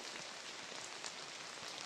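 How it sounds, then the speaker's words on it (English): Steady early-morning rain falls on an African village in November, a dense, even hiss of drops with a few louder patters on nearby surfaces. It stays constant and fairly quiet, with no voices. "the rain started very early in the morning and it's still raining"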